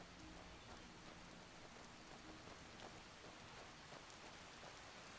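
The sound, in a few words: rain falling in video game Skyrim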